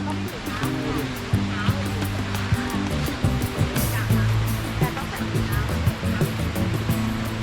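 Steady roar of rushing water at Namtok Krok I Dok waterfall in Saraburi, Thailand, fills the whole stretch, with voices talking over it throughout.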